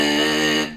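A single sustained rough buzz from the false vocal folds vibrating together with the true vocal folds during throat clearing, heard close and loud and ending abruptly, with no speech.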